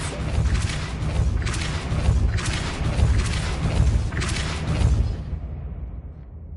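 Repeated Depulso spell casts in Hogwarts Legacy, four forceful whooshing blasts with deep thumping bass arriving at a steady rhythm, loud and close with no voices over them.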